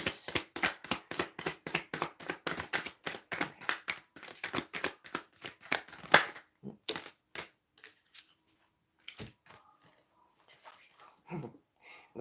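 Tarot cards are shuffled in a fast, rhythmic run of papery slaps for about six seconds, followed by sparse, quieter handling sounds and a few isolated taps as cards are drawn.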